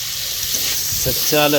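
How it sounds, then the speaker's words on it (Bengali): Sliced potatoes fry in a pan with very little oil, giving a steady close hiss and sizzle, and a voice starts speaking over it at the end. "এখানে আলু ভাজা বসিয়ে দিয়েছি"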